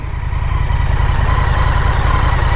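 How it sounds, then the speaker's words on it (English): A 2024 Indian FTR 1200 motorcycle with its stock exhaust idles close by, a steady, low, even pulsing rumble with no talk over it. "I'll put the kickstand down here, try and give you guys a better sound of this bike"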